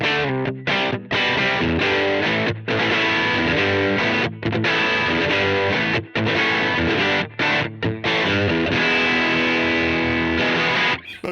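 Electric guitar runs through a Disorder overdrive pedal into an amp, dense distorted chords strummed continuously with a few short breaks, loud and close with no talking.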